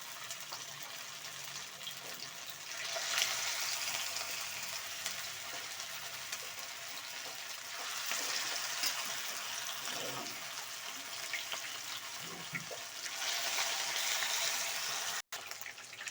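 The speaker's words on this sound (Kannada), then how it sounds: "ಇವಾಗ ಎಣ್ಣೆ ಕಾದಿದೆ ಕಬಾಬ್ನ ಒಂದೊಂದೇ ಹಾಕ್ಕೊಂಡು ಎಣ್ಣೆಯಲ್ಲಿ ಕರಿಬೇಕು" Chicken kebab pieces fry in hot oil, added one by one, giving a soft, steady hiss and bubbling that swells a few times, fairly faint and without talking.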